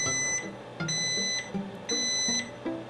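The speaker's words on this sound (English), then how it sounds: "The alarm on this thing is way too much for me. It does 3 rounds of that beep, and it is quite piercing." An Emeril Lagasse toaster oven alarm gives three rounds of piercing, high-pitched beeps, each a short cluster of tones, sounding over a quiet kitchen background.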